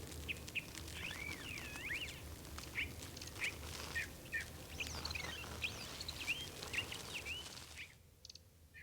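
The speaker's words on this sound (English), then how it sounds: "Bird. Listen to him." Bird calls repeat in quick, chirpy bursts along an oak-shaded hiking trail on the San Andreas Fault, moderately close over a soft outdoor background, with no talking.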